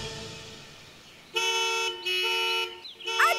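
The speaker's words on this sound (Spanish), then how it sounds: "presionó el claxon con todas sus fuerzas." A cartoon vehicle horn in an animated Tayo the Little Bus episode is pressed hard in loud, sustained, bright honking blasts, one long tone followed by another and a final squeal.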